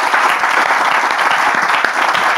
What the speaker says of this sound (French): On va d'ailleurs donc les accueillir avec des applaudissements.